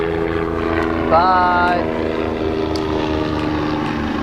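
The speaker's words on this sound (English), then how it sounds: "I'm sorry for the noise that you can pick up the helicopter." A helicopter flies near an airport beside a Chevy G30 van, its steady rotor and engine drone filling the background, with a brief whining tone and a voice speaking over it.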